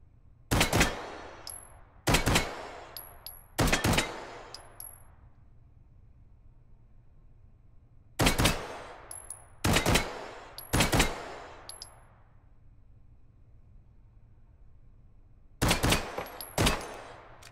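Gunfire from shooting targets in the VR game Hot Dogs, Horseshoes & Hand Grenades on HTC Vive: three separate clusters of sharp shots, each a quick string of three or four cracks with fading echoes, split by quiet pauses.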